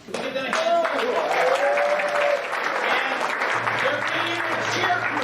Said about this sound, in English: Can we give them a hand?